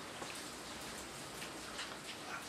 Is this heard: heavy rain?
yes